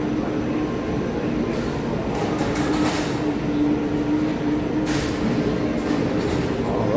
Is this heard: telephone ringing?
no